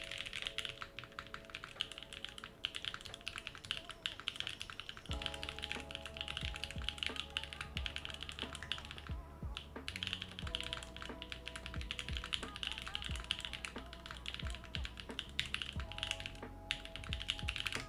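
Typing on a Filco Majestouch Stingray mechanical keyboard, with rapid, continuous key clicks and clacks close up, some faster bursts and brief pauses, over a faint background hum and no speech.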